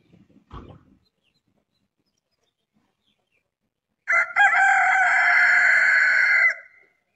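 A rooster crows once, loud and close, a long drawn-out call of about two and a half seconds following a brief thump and several seconds of quiet.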